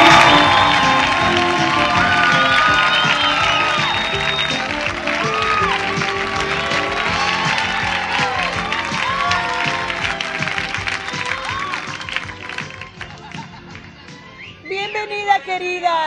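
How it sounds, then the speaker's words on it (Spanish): A studio audience at a TV show applauds and cheers to welcome a guest, loud dense clapping with excited voices and shrieks that gradually thins out near the end. "Vamos a recibir con un fuerte aplauso a Nelly Hill."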